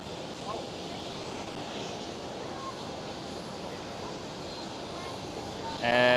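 An Anadolu airliner passes at Schiphol airport, a broad steady jet roar with wind-like rumble holding for several seconds before a louder burst near the end.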